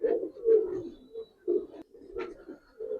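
Palla line gribaz pigeons coo in a loft: a string of low, throaty, rolling coos in separate bursts with short gaps between them, close and fairly clear, with no talking.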